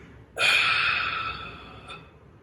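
Forceful breath expelled once during a martial arts form, a single loud rushing exhale lasting over a second and slowly fading, with a faint short puff near the end.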